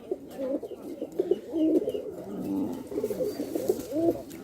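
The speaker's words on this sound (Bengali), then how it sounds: "অসাধারণ এক পেয়ার শ্যাডেল ব্যাক ফ্যান্টেল কবুতর" Saddleback fantail pigeons coo softly and continuously up close, overlapping low throaty calls with a gentle rolling rhythm.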